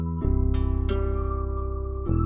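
A wavy guitar beat made in FL Studio plays, a sustained guitar chord stacked over a deep pulsing bass with soft percussive hits, loud and up front with no voices.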